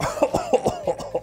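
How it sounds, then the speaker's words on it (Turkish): A string of coughs, about six or seven short bursts at an uneven rhythm, close and fairly loud, part of a joke about Santa Claus catching corona. "Öksürerek."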